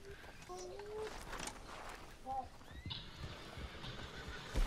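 Horse in the Red Dead Redemption 2 video game: a few faint, brief whinnies and snorts over soft ambient game sound, with clip-clopping hooves and a voice talking at times.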